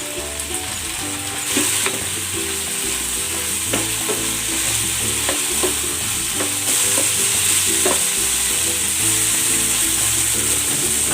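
Ground pork and shrimp sizzling loudly in hot oil while being stir-fried for sautéed chayote, a steady dense frying hiss with scattered crackles and pops throughout, no talking.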